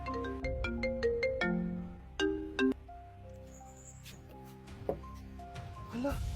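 A cellphone ringtone plays a bright, repeating melodic tune in the foreground of a home scene, stopping and restarting in bursts, with some talking around it.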